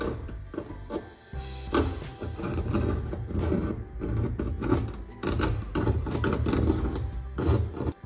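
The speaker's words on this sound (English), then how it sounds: "I'm switching to a small flat screwdriver now just to act a little bit more like a scraper to get some of these stubborn paint chips off" A small flat screwdriver scrapes stubborn, loose paint chips off a car hood in quick, irregular rasping and ticking strokes, heard close up.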